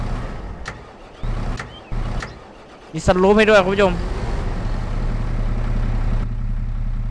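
In Farming Simulator 22, a tractor on rubber triangular tracks cranks, catches with a loud burst and settles into a steady, low idle. Someone talks briefly beforehand.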